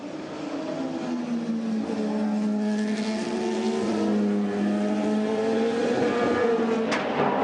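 Lola prototype race cars roar past at the Spa 1000 km endurance race, a loud continuous engine howl that rises and falls in pitch as the cars accelerate and change gear.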